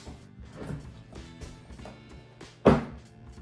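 A weatherproof, pressure-sealed hard gun case for a SWAT kit is unlocked and opened, with rattling latch clicks and fumbling, then a solid hollow thunk as the lid releases, close and alone.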